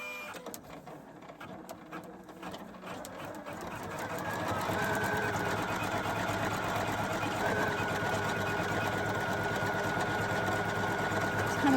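A Poolin EOC06 embroidery machine starts with a few scattered clicks, then settles into a steady, rapid rhythmic needle punching and motor whir, close and moderately quiet.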